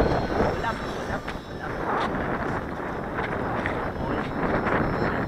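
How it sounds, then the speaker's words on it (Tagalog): Strong wind buffets the microphone in a constant loud rumble, with faint voices talking underneath, outdoors during a Bixbi 3 maiden flight. "Kasi Sobrang lakas ng hangin, no?"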